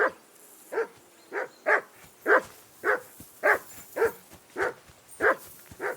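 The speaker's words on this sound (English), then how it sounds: "I assume you can hear that damn dog of yours barking." A dog in the video game Kingdom Come: Deliverance II barks repeatedly at a steady pace, about eleven single sharp barks roughly half a second apart, moderately distant and alone without speech.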